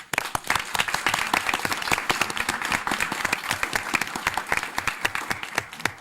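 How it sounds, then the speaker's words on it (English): Audience applause at a city council meeting in Forest Park, dense overlapping claps sounding close and loud, continuing steadily for about six seconds with no talking over it. "So could I have a round of applause for them?"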